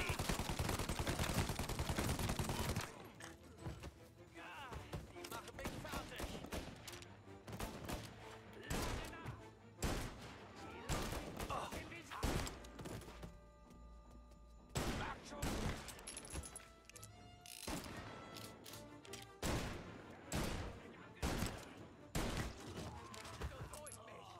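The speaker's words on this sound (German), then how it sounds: "Schüsse gemeldet." Gunfire in the video game Mafia Definitive Edition: a loud opening burst of rapid automatic shots, then repeated separate bangs and short volleys over a noisy backdrop, some sounding closer and sharper than others.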